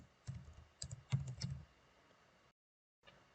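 Keys clatter on a computer keyboard as code is typed, a few quick close clicks in uneven bursts, then a brief pause and one last faint tap.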